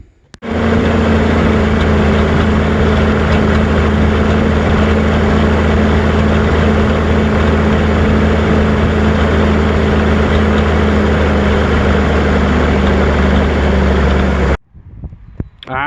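A tractor engine runs at a steady idle on plain water during a radiator flush, a loud continuous drone that holds for about fifteen seconds and then cuts off abruptly.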